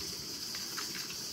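Water is poured into a pot to cover rice for the second rinse, making a steady gushing, splashing wash of noise, close and continuous, with no voice.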